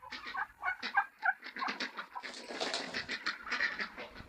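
Hens on a small farm flock that also keeps ducks and geese, clucking in a busy overlapping chorus of short squawks and calls that grows louder and denser toward the end.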